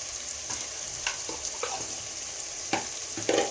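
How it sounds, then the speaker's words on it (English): Githeri with chili cooking in a pot while being stirred: a steady low sizzle with several distinct spoon scrapes and knocks, close and clear, with no voices. "Then I'll continue stirring it for the spices to cook."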